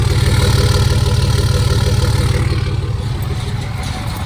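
A Cummins diesel straight-six in a Dodge Ram idles up close with a loud, throbbing rhythmic knock and a light metallic exhaust rattle, running steadily and easing slightly in volume near the end.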